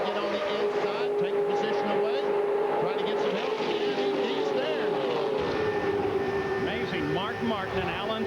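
Engines of IROC race cars at the 1997 California round drone steadily and loudly throughout as the pack circles the track, with a commentator talking over the continuous roar.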